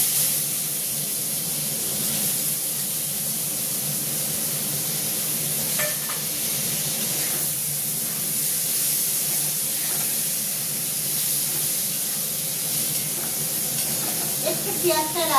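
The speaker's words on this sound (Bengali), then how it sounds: "এবার আমি ধুয়ে রাখা টমেটো, কাঁচা লঙ্কা আর পেঁয়াজ কুচানোটা দিয়ে দিচ্ছি।" Tomatoes, green chillies and chopped onion frying in oil for khichdi, giving a steady broad hiss and sizzle throughout with faint stirring clinks near the end.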